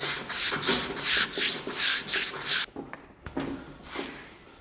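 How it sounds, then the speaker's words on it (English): Emery cloth scrubbing rust off a steel driveshaft in rhythmic back-and-forth strokes, about seven loud close rubs followed by a few lighter, scattered scrapes and handling sounds. "Take a piece of emery cloth, somewhere you haven't hit it with the grinder and somewhere there's no counterweight."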